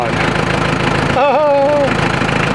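Close, loud idling rumble of a tractor engine with a steady pulsing knock that continues throughout, cut across midway by a short voice.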